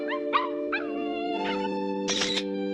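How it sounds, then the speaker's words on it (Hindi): A dog barks and yips in short repeated calls in a Hindi-dubbed Doraemon cartoon episode, the sounds coming over a sustained steady musical tone, ending with a louder, noisier bark. "मॉम, अभी मैंने एक डॉग की आवाज सुनी।"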